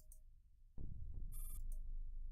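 An electronic phone ring from the video game Girls' Frontline, a brief bright trill sounding over a louder low rumbling music bed that swells partway through.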